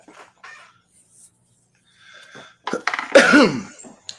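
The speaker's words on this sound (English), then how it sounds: "I just coughed in the mic." A loud, harsh cough bursts close to the microphone after a few seconds of faint shuffling and quiet sounds.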